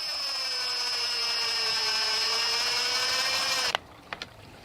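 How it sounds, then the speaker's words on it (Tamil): A power drill drives screws to join a laminate sheet to a metal rod, a steady high whine running close and loud for several seconds before stopping abruptly, followed by a couple of short clicks. "அப்படியே இனி வந்து இந்த ஷீட்டும் இந்த கம்பியும் சேர்த்து ஸ்க்ரூ போட்டுடுறேன்."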